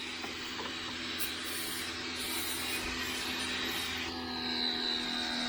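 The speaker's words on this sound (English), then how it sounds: "See, my hose is leaking right there." Air hisses steadily from a leaking hose on a 1976 El Camino, a broad, even rush that holds the whole time with a faint shift in tone near the end.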